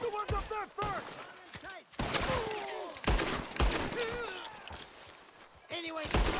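Red Dead Redemption 2 gunfire snaps out in sharp, scattered shots amid a firefight, repeated bursts landing between frequent shouted speech and voices over the action.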